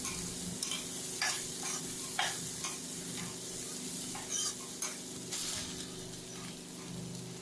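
Cooked dried peas and raw mango stirred in a frying pan, with steady sizzling and repeated scraping strokes of a spoon or spatula sounding close and clear, no talking.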